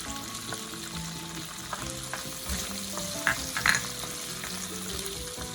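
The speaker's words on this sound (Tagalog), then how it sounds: "Ayan, nagigisa na po siya. Talagang tumatalsik." Onions and garlic sautéing in a hot pan, a steady sizzling fry with sharp bursts of splattering around the middle, close and continuous with no talking.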